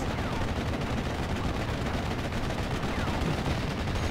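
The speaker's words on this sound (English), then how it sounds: "Just trying to fire a machine gun into the air to scare it." Sustained machine-gun fire rattles continuously in a Steel Division: Normandy 44 WWII battle, dense overlapping bursts forming a steady, loud wall of gunfire with no pauses.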